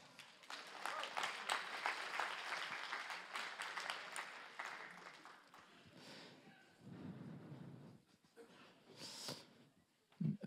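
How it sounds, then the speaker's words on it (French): Audience applause fills a conference talk, a dense crackle of many hands clapping that swells, then thins out and fades, followed by a few scattered claps and faint stage noise. "Et on peut l'applaudir."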